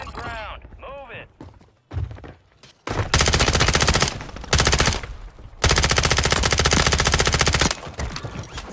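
Video game gunfire crackles in long, loud bursts of rapid automatic fire with short pauses between them. Players shout over the shooting in the early part of the clip, and there are a few scattered single shots.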